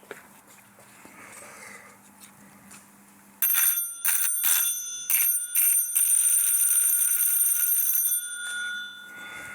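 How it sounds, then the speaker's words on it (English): An antique electric doorbell from about 1860 rings in a fast metallic trill, in several short bursts and then one long sustained ring, with a quiet hum before and after. "This is an electric doorbell. It was made approximately 1860."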